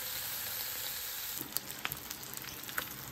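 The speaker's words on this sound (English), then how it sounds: "So now I'm just cooking the bacon." Thick-cut bacon frying in a cast iron pan gives a steady, close sizzle, with small pops and crackles scattered through it.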